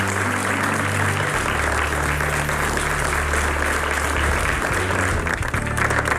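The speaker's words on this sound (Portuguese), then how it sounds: "Um grande aplauso e muitas felicidades." Sustained applause from a TV studio audience fills the whole stretch at an even level, with a low musical tone running beneath it and no talking.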